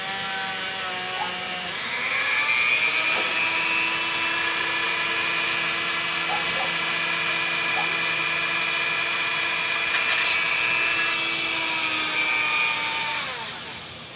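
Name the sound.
Dremel rotary tool drilling through a derailleur part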